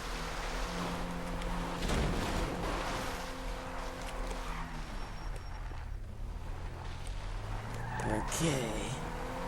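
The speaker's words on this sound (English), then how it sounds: "And drift it." Mercedes-Benz 300 SL Gullwing drifting in GTA Online, engine droning and tires squealing through a long slide, loud and continuous with a rising rev near the end, no talking during it.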